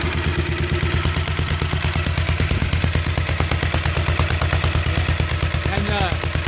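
An Andover V32 auxiliary power unit engine from a B-29, built to sit inside the aircraft fuselage, runs steadily with a loud, fast, even chugging pulse and clatter throughout, close by, with no talk over it.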